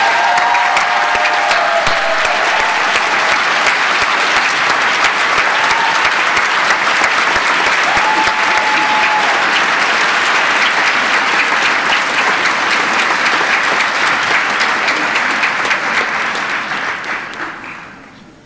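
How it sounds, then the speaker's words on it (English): University graduates at an Arts and Social Sciences graduation ceremony give a loud, sustained round of applause for their family and friends, a dense wash of many hands clapping in a large hall that holds steady before fading out near the end. "let's give your family and friends a resounding round of applause"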